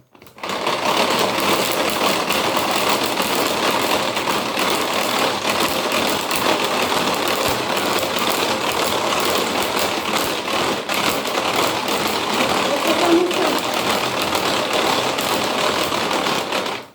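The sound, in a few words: Speedy Chef mixer on speed 1 whipping coffee, sugar, water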